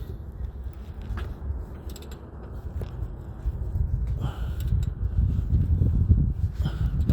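A Nissan R33 engine is turned over by hand, giving soft mechanical creaks and clicks that grow into a louder, rougher low grinding toward the end.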